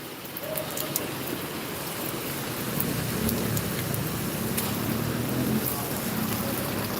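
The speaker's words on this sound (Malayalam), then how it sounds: "രണ്ട് മൂന്ന് ദിവസമായിട്ട് നല്ല മഴയാണ് കേട്ടോ" Heavy rain falls steadily and loudly in Idukki, Kerala, a dense continuous roar with scattered drops striking close by.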